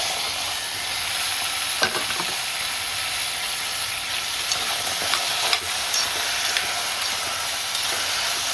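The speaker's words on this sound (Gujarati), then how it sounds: "અને એને બધા ટોમેટો નાખી દઉં." Tomatoes sauté in butter with a bay leaf inside a pressure cooker, giving a steady close sizzle and hiss with a few soft scrape-like stirring sounds throughout.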